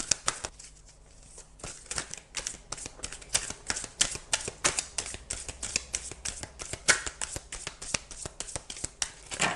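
Oracle cards from a tree-soul deck are shuffled and drawn, giving dense rapid papery riffling and flicking at close range with no voices, the snaps coming thick and steady throughout.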